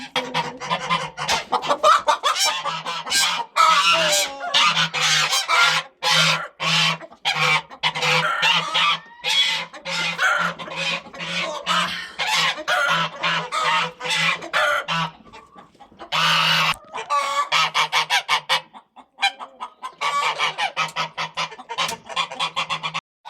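Hens cluck and squawk busily inside a hen house, a dense, loud, near chorus of overlapping calls with a few short pauses, continuing throughout without talk.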